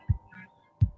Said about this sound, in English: I love the Edgar Allan Poe sort of heartbeat